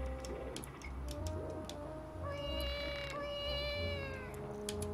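A cat meows a few times, fairly quiet and close, over a soft background with light ticking clicks and a low hum.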